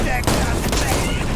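Dense shotgun and weapon fire in the VR game Borderlands 2 VR, a loud rapid burst of overlapping shots filling the whole moment.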